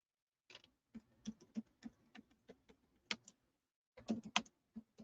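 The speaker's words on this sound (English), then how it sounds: "I just start typing their name" Typing on a computer keyboard in a chat window, irregular bursts of close, crisp key clicks with short pauses and a quick flurry near the end.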